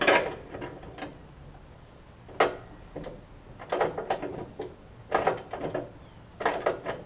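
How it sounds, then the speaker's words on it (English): Socket and ratchet working a mower deck bolt on a John Deere D110 riding mower, giving several short bursts of metallic clicking and scraping spaced across the clip, close to the mic, with quiet gaps between. "Socket and ratchet."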